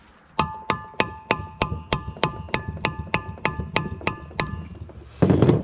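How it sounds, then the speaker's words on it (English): A hammer striking a water thermostat on a 2004–2006 T1N Mercedes Sprinter, about a dozen sharp metallic clinks in a steady, even rhythm, close and loud, followed by a brief rustle. "what we're gonna do is bang on it with the hammer a little bit"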